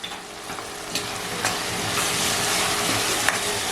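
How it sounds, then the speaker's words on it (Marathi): Spices for chicken curry sizzle and fry steadily in hot oil, with a few scrapes and clinks of a spoon stirring through a continuous close frying hiss; no talk. "मसाले एकदम तेलात छान असे परतवून घेऊया"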